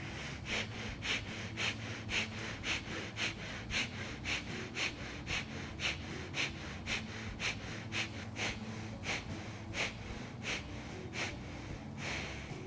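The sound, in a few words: deep yoga breathing, inhaling and exhaling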